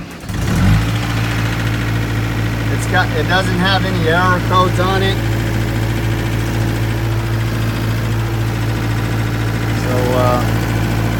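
The diesel engine of a Case TR270 compact track loader with 937 hours cranks, starts and settles into a steady loud idle, with someone talking over the running engine.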